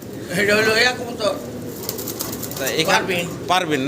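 Pigeons, including Kaldom racers and feather-footed birds, coo softly at a large wholesale pigeon farm in Bangladesh, their murmuring calls running beneath people talking nearby.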